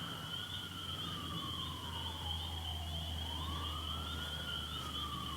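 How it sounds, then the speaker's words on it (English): Fire sirens wail steadily during a large tornado near Bradford, Pennsylvania, with one tone holding level while a second slowly falls and rises again, continuous and fairly distant over a low rumbling background. "There's even fire sirens going off."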